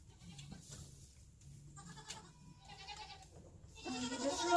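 Goats bleat in short, wavering calls, faint at first and louder toward the end, with a few separate cries and no talk.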